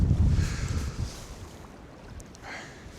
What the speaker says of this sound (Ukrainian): Вітер задуває по-страшному